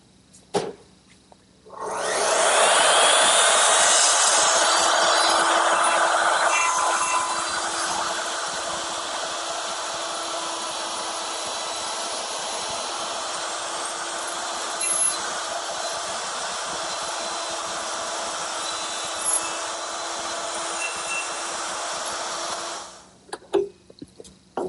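A router fitted with a collar and dovetailing bit cuts dovetails into wooden drawer side pieces, a loud continuous high whine that surges at first, settles into a steady cutting drone, then stops abruptly.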